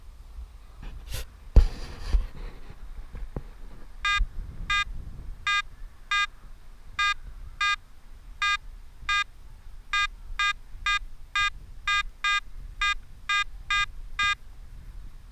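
Pirate Pro metal detector sweeping over a quarter coin target, giving a steady series of short, evenly paced electronic beeps repeated about twenty times, preceded by a brief handling rustle.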